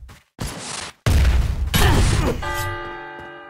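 Rocket turrets explode in Dysmantle on the Solaris map during a boss fight, heavy booming blasts in bursts with a brief gap, followed by tonal game effects ringing out at the end.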